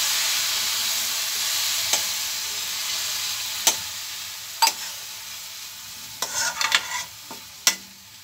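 Wheat leaves sizzle and fry in a pan after water is added, with a steady hiss, scattered pops, and sharp ticks and scrapes from stirring, heard close up with no talking.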